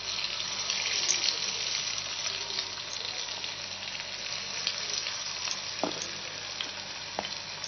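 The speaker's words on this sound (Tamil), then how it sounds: "எவ்வளோ இடம் இருக்கோ அவ்வளோ வாழைக்காய் போட்டுக்கலாம்." Raw banana slices fry in hot oil, a steady close sizzle that runs unbroken from start to finish, with a few faint clinks near the end.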